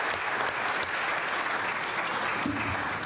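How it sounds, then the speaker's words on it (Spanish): A city council meeting in Highland Park erupts in a round of applause, dense clapping filling the room steadily for several seconds and tapering slightly near the end. "round of applause"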